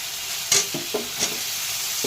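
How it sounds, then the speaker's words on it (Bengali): Mustard paste sizzles softly in hot oil while a spoon stirs it, making a few scraping clinks over a quiet, steady frying hiss. "একটু সর্ষে বাটাটা নাড়াচাড়া হোক"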